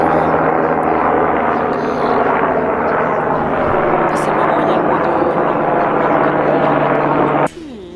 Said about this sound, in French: Par contre, il y a des hélicoptères dès le matin.